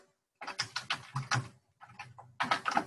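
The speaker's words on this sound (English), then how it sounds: "you just type it in there" Keystrokes on a computer keyboard as text is entered into a text box, coming in quick close bursts with a short pause partway through, no talking.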